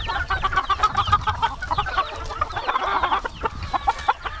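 Kelso gamefowl hens on a California farm cluck steadily in a busy flock, with overlapping calls close by and a rooster-like crow now and then amid the chatter.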